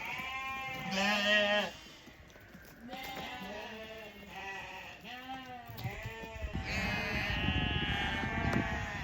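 Several lambs bleating on a sheep farm, a string of wavering calls one after another, fairly close, with faint shuffling and a little background noise between them.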